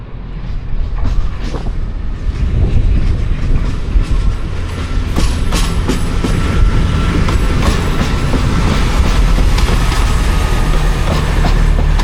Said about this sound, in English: London train's going out